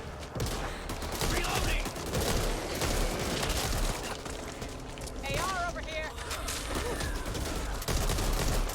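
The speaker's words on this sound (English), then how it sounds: "we'll just shoot off into the distance and try to pull as many zombies as possible" Rapid gunfire in the Back 4 Blood video game, bursts of shots aimed at zombies rattling continuously over a busy battle din, with a player talking over the action.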